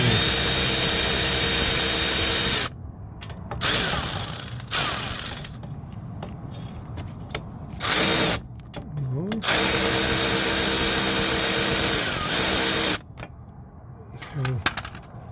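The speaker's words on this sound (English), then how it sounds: "or you can come in with a electric ratchet. And get them out that way." An electric ratchet pulls bolts from the rear wheel hub of a 2018 Toyota Camry, loud whirring bursts of several seconds each separated by quieter gaps with clicks and handling noise.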